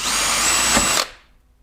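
A power drill whines at high speed while boring through a C7 Corvette Z06 composite side skirt, a close, loud burst of about one second that stops abruptly and leaves a short fading ring.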